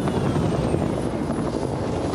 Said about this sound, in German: Oh, da kommt noch ein Heli rein.